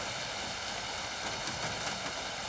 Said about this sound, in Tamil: என்ன ஒரு மழை